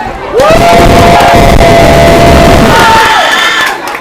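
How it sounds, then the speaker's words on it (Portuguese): A loud crowd at a cabaret show cheers and whoops in one sustained burst, with a shrill whistle riding over the roar before it tapers off at the end. "Por aplauso, Ana Alice."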